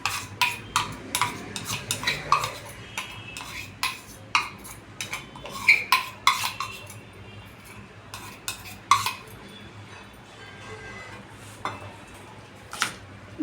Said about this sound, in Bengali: ডালটা বিটটার মধ্যে মিশিয়ে নিচ্ছি।